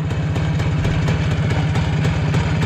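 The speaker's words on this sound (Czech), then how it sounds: "Motorka je nastartovaná," A 1974 Jawa CZ 477 175 motorcycle idles up close in freezing outdoor air, its engine producing a loud, steady, rapid low putter with a regular rhythmic pulse and no voices.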